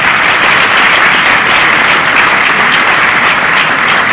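Sustained applause fills a theatre at a Neapolitan variety show, a large audience clapping steadily and loudly for the director, Dr. Grimaldi, with no voices over it.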